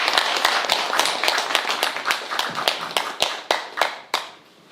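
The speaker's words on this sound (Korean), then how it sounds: "다시 한번 박수 부탁드립니다" Applause from an audience at a company staff training session for an environmental firm: a dense run of hand claps that thins into a few scattered louder claps and fades out after about four seconds.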